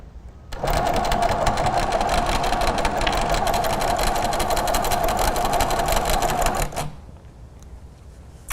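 A Little Rebel sewing machine from Grace Co. stitches into the corner of a quilted table runner, a steady close whirring hum of rapid needle strokes running about six seconds before stopping.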